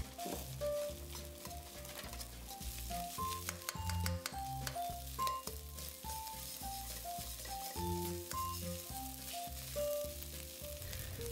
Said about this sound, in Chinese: 然后就加入白饭，